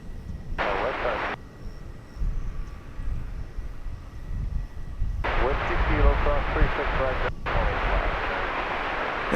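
A Frontier Airlines jet on the runway at DFW Airport at night, heard as a steady low engine roar with two louder broadband surges of jet noise, under intermittent radio and voice chatter.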